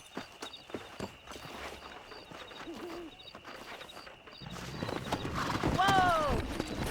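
Horses clip-clop along in the video game Red Dead Redemption, hooves thudding steadily and growing louder, with a whinny near the end and voices talking in the mix.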